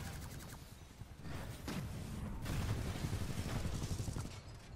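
Gunfire aimed at a Scorch titan in the shooter game Titanfall 2, loud, dense rapid bursts with booming impacts and whooshes layered over continuous battle noise throughout.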